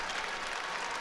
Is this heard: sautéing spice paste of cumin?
no